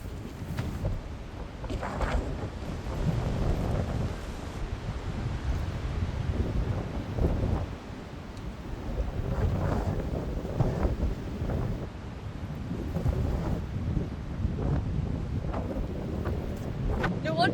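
Strong wind buffets the microphone outdoors on a hike, a steady low rumble with gusts rising and falling throughout, no voices.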